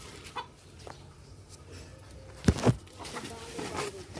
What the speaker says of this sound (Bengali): এই দেশি মুরগিটা মাপা হচ্ছে